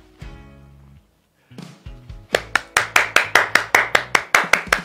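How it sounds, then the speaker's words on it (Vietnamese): Applause on a live interactive game show: a few short electronic tones, then a run of sharp, evenly spaced claps in a loud, rhythmic burst. "những tràng pháo tay để dành cho top 30 đã giữ vững được vị trí của mình qua câu hỏi đầu tiên"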